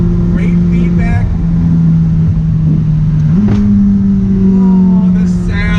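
2019 McLaren 600LT engine pulling hard on a road drive, a loud steady droning roar that rises in pitch after a gear change, with someone talking over it.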